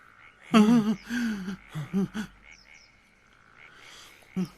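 Frogs croak during a dramatized biblical plague of frogs in ancient Egypt: a cluster of loud, close, warbling croaks fills the first two seconds, faint chirps follow, and a single croak returns at the end, with no talk.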